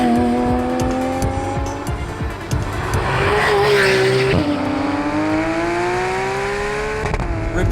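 A Porsche GT3 RS with a 4-litre flat-six screams loudly as it revs toward its 8,400 rpm limit, pitch climbing, dropping briefly at a gearshift, then rising again, with tyre noise underneath.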